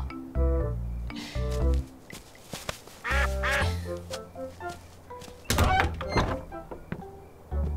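An injured duck with a hurt wing quacks in loud, nasal bursts close by, with soft thumps and rustling between the calls.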